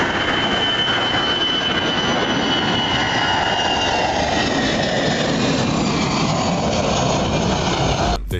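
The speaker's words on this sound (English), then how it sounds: "The 727 landing at St. Martin came in too low and was just a few feet above the fence." A Boeing 727 airliner landing low over a fence at St. Martin, a loud continuous roar of jet engines with a high whining tone, sustained and close, ending abruptly.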